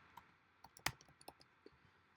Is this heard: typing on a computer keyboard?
yes